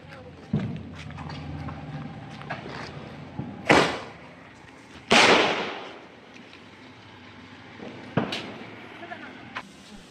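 Deepavali firecrackers burst outdoors, several sharp loud bangs spaced apart with decaying tails, the biggest two in the middle, over background crowd noise and voices.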